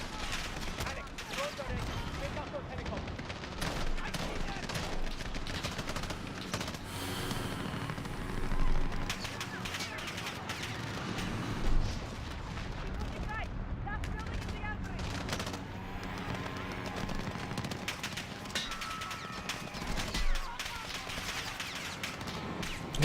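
Gunfire in the video game Call of Duty: Modern Warfare (2019) crackles in dense bursts and rattling volleys with occasional heavier blasts, continuous through the stretch while a player talks over it.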